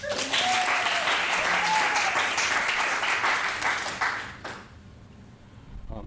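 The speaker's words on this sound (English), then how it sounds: "So give them a round of applause." An audience at an annual general meeting applauds two award recipients with dense, sustained clapping that fades out near the end and leaves a quieter room.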